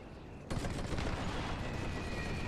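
Cannons firing in The Great War, a World War I strategy game, hit suddenly after a quiet moment and turn into a dense, sustained roar of blasts and rumble that stays loud to the end.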